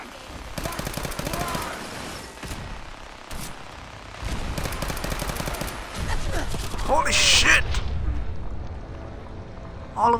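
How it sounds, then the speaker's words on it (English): Rapid bursts of gunfire and heavy booming explosions in the video game Fallout 4 pile up, loud and chaotic, with someone shouting briefly over the din. "All of a sudden, explosions fucking everywhere"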